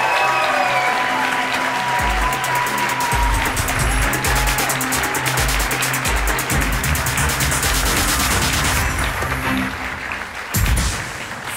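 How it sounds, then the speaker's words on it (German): Loud, sustained applause from a large crowd at a science slam, dense clapping filling the space for several seconds with a brief swell near the end. "Bitte einen tosenden Applaus für das Team"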